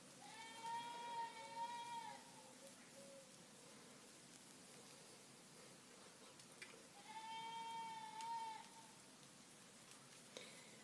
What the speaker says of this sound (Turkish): Meliyor tabii koçlarımız, kuzularımız, keçilerimiz var.